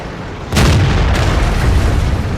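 A World of Tanks tank cannon fires a single loud, booming shot that starts abruptly and rolls on with sustained rumbling reverberation.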